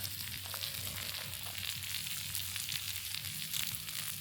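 Steak, broccolini and vegetables cooking over a campfire on a fishing trip, a faint, even sizzle and hiss that holds steady throughout, with no voices.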